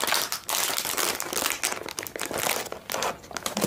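Plastic packaging around a nail file is unwrapped close up, giving loud, continuous crinkling and crumpling with sharp crackles and brief tearing. No one speaks during the unwrapping.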